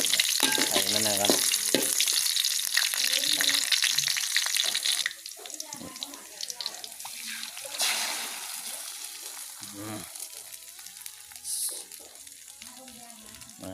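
Eggs fry in a pan after fish, with loud close sizzling and stirring that soften partway through. Splashy water sounds and some talking come in and out.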